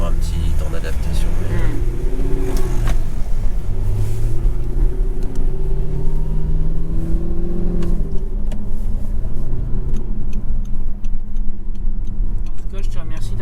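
An Audi R8 rolls through Paris streets, its engine a steady low rumble with occasional revs, close and continuous, while people talk over it inside the car.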